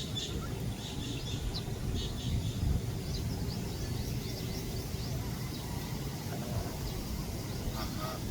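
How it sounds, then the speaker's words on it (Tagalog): Geese honk intermittently in the background while bathing in heavy rain, over a constant outdoor wash of rain noise, fairly faint and distant. "ito naman yung gansa natin"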